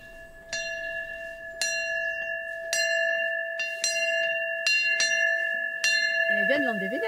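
Repeated strikes of a church bell from Landévennec abbey, about six evenly spaced clangs with long ringing tones, fairly close, with a brief voice starting under the last stroke.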